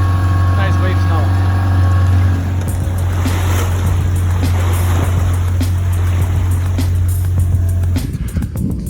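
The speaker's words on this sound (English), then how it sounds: "getting some nice waves now" A sailing yacht, a trailerable boat off Croatia, motors through waves, with a steady loud engine drone for most of the stretch under rushing water and wave noise, the engine hum dropping out near the end.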